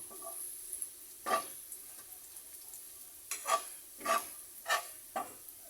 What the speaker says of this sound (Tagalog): i-golden brown lang natin ang bawang